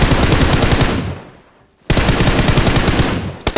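Rapid automatic gunfire in PUBG Mobile during a large squad fight, with loud close bursts, a brief fading pause, then another sustained burst and a few final shots.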